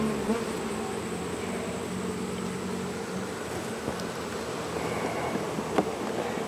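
Honeybees swarm and buzz steadily around an open hive whose top box is heavy with honey, a dense continuous drone close by with occasional louder passes near the microphone.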